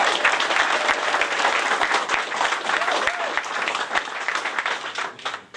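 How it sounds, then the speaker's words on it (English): An audience gives sustained applause for a football hall of fame class of 2016, dense, close clapping throughout with faint crowd murmur that fades slightly at the end. "How about a round of applause for all of them?"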